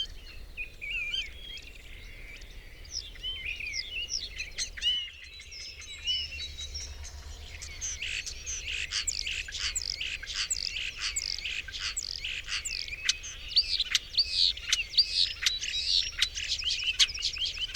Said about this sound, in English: Starlings are very good mimics, perhaps not surprisingly, as they're related to myna birds.